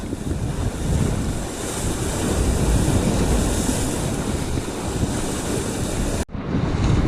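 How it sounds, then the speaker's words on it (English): Waves roll and break continuously against the Lake Tahoe shore, with heavy wind buffeting the microphone in a loud, steady roar that cuts out briefly near the end. "And these waves are rolling in"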